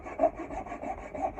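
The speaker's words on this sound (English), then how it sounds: "Nicholson wood rasp. I'm just going to smooth it out so it rolls nice and smoothly into the handle." A Nicholson wood rasp smoothing a wooden axe handle, a series of rhythmic rasping strokes, close and fairly quiet, with no voices.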